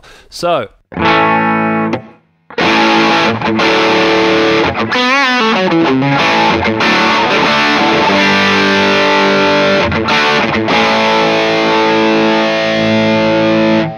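Electric guitar, a Music Man Axis through a J. Rockett 10 Ton Hammer distortion pedal set to low gain into a 6L6 tube amp, plays loud, sustained, crunchy distorted chords and riffs after a brief spoken word at the start.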